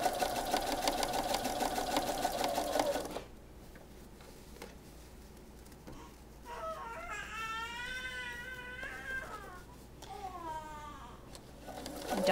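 A domestic sewing machine runs in a steady, fast whirring burst for about three seconds while stitching an elastic casing on a fitted pocket, then stops as a voice babbles and cries nearby.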